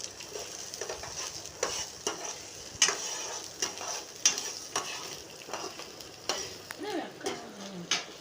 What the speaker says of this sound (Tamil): அதை நான் சேர்த்து நல்லா வதக்கணும்